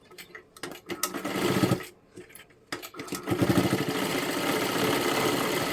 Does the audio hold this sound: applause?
no